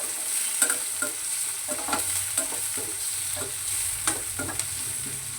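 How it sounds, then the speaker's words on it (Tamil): Onion and green chilies sautéing in a pan for red poha upma, a low steady sizzle broken by repeated short scrapes and taps of a spoon as the mixture is stirred. "இப்போது வெங்காயமும் பச்சை மிளகாவும் நல்லா வதங்கட்டும்"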